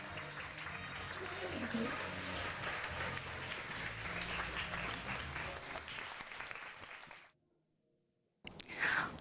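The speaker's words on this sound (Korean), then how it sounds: "큰 박수 부탁드리겠습니다" Audience applause welcoming a young tomato farmer onstage at a lecture event, a dense, steady clapping crowd lasting several seconds, then breaking off into brief silence before a short final burst.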